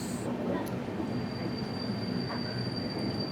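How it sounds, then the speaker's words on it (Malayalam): The Kottayam–Nilambur Express rolls into a station in Kerala, a steady close rumble of wheels and carriages with faint metallic squeals and a thin sustained whine running over it. "ഈ വരുന്നതാണ് നമ്മുടെ കോട്ടയം നിലമ്പൂർ എക്സ്പ്രസ്."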